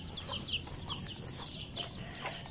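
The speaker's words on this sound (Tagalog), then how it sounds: "Ito pa, marami pang manok." Texas gamefowl chickens, fighting-cock stock, clucking and chirping in short repeated calls over a steady outdoor background hum, with no talk.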